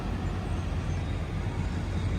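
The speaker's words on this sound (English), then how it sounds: "they're just letting all the garbage trucks go through" Garbage trucks rumble past at a Phoenix waste transfer station, a steady, close, low engine drone that holds without a break.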